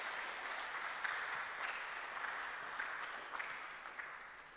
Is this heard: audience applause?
yes